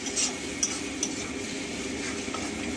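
Masala is stir-fried in a pan with a continuous sizzle, while a spoon stirs and taps against the metal in a few sharp clinks spread across the stretch.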